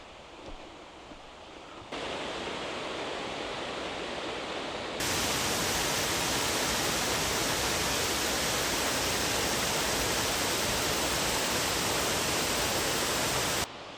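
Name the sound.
stream running down the valley from a waterfall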